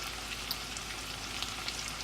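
Beef, rice, onions and eggs with lime juice cook in a pan, giving a steady, fairly faint sizzle with a few soft stirring ticks and no talking.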